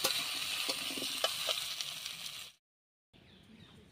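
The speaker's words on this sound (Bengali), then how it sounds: "খুব ভালোভাবে আলুটাকে ভাজতে হবে।" Potato pieces frying in oil with turmeric in a pan, a steady close sizzle with a few stirring clicks, then a short break of silence before softer frying resumes.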